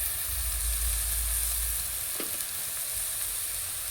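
Fish hitting hot spiced onion masala in a pan, a dense continuous close sizzle of frying with a brief stir scrape partway, no talk.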